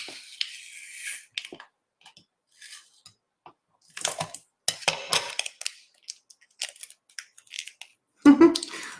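Scissors snip through tape during a craft transfer, several short crisp cuts scattered between pauses, close and fairly loud, ending with a firmer snip.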